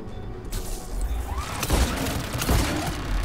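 Enemy turret fire in Mass Effect 3, a continuous booming barrage with heavy thumps and crashing impacts, close and loud throughout.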